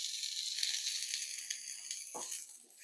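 Chopped onions hitting hot olive oil in a skillet give a steady, close sizzle and crackle that carries on evenly, with a brief low thump partway through.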